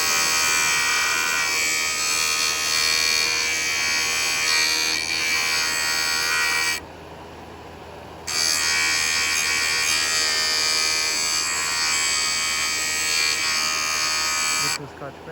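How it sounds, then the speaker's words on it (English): A JOOLTOOL grinder with a coarse Scotch-Brite wheel burnishing a 75-year-old chisel, a loud steady high-pitched whirring buzz that drops briefly midway, then resumes before cutting off near the end. "So what this does is it burnishes. So it's kind of pounding the metal as I'm grinding."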